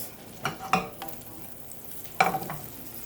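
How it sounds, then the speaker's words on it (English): Butter melts in a pan with a soft, low sizzle, broken by a few scraping stirs and clicks of a utensil, all quiet and close. "First, you want to start off with your butter and let that melt."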